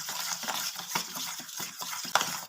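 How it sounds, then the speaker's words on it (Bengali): Water is stirred bit by bit into rice flour and flour to make a thin batter for patisapta pitha, with continuous close mixing and irregular taps of a utensil against the bowl, and no speech. "এবার চাল গুঁড়ি ময়দার সঙ্গে জলটা মিশিয়ে নিচ্ছি অল্প অল্প দিয়ে"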